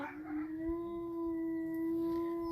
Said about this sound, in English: Oh, that's such a pretty howl, Denali.